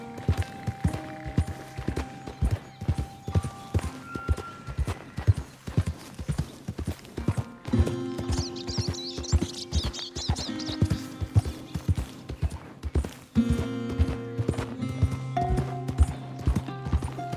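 A horse's hooves clip-clop steadily and close in Red Dead Redemption, with the rhythm changing pace midway and a brief whinny among the hoofbeats.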